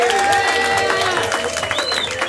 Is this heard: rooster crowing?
no